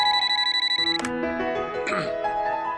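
A landline telephone rings in a home, a repeated electronic ringing tone that carries through the clip while a brief musical sting cuts in over it, with no talking.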